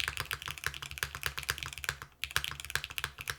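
Rapid, steady typing on a Mode Encore mechanical keyboard, crisp close-up key clacks with a brief pause midway.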